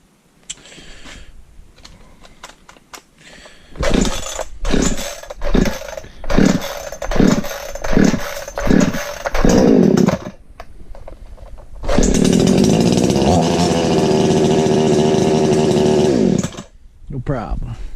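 A Stark Chinese chainsaw runs close by, first revving in a rhythmic series of short bursts, then, after a brief pause, holding a long, loud, steady high-pitched roar before cutting off.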